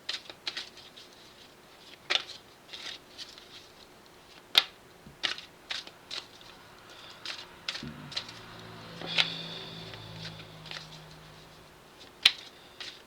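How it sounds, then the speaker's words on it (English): Soft, scattered card riffles and flicks with sharp little snaps, quiet and close, uneven in rhythm, with a faint low hum partway through. "the cards are just wobbly in my hands. Look at that. I can barely shuffle these things."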